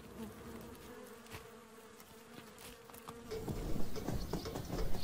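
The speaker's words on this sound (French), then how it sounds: "Les abeilles sauvages profitent souvent de la proximité des hommes." Wild bees buzz close by in a steady drone, a continuous hum that grows busier and louder toward the end, with no voices present.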